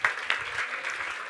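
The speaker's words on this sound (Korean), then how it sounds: "박수 부탁드리겠습니다." Audience applause in a church during a young adults' prayer meeting, a short burst of clapping with a couple of louder onsets, steady and moderately distant.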